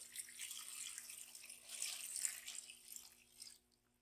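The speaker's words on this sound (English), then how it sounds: "I'm going to add 4 cups of water." Water pours into a cooking pot while black-eyed peas are prepared, a faint splashing stream that swells and eases for a few seconds and then stops abruptly near the end.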